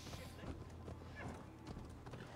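Horse hooves clip-clopping at a gallop in the video game Assassin's Creed Valhalla, a steady rhythmic beat with occasional whinnies, mixed with game ambience and a voice talking over it.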